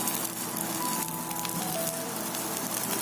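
Oil sizzling around a masala dosa on a hot pan, a steady soft crackling hiss that runs unbroken and alone, fairly faint.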